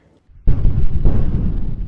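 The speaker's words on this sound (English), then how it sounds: "They get sonic booms from time to time. Just not this loud." A loud sonic boom over Wise County, a rural area between two military installations, hits suddenly as a heavy, deep rumbling blast with a second thump just after, rolling on without pause.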